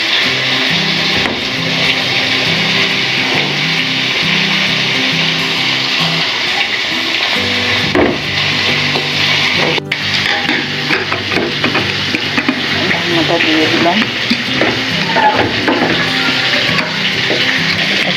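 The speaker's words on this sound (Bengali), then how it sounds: "যে আলুটা দিয়েছিলাম তেল ছেড়ে দিয়েছে এখন আমি এখানে লাউ সবটা" Bottle gourd and potatoes in hot oil in a home kitchen, a loud continuous sizzle with wooden scraping and clatter of stirring, close and busy, with a brief knock partway through.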